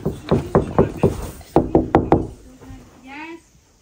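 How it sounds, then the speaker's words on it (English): Knocking on a bedroom door in a home at night: a series of sharp knocks in two quick bursts of evenly spaced raps, fairly loud and close, followed by a brief voice. "Knock on her door."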